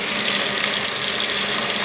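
Water rushing into a 1996 Whirlpool washing machine during a fill cycle, a steady, bright hiss of flowing water heard alone and close.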